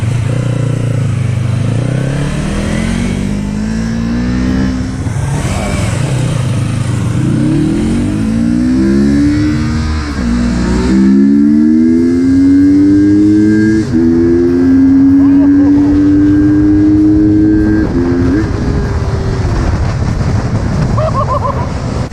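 Custom project motorcycle with its exhaust exiting from the side, engine revving loudly and close, with repeated rising and falling revs and a sustained high-rpm pull, steady wind-like rumble beneath.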